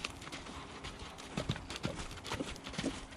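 A horse lopes during groundwork, its hooves clip-clopping in an uneven rolling rhythm, faint and at a moderate distance over a background hiss.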